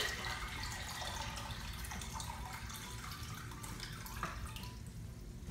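Water poured from a bucket into a 15-gallon JBJ Cubey aquarium, a soft steady splashing trickle with faint drips, fairly quiet and continuous, with no talk.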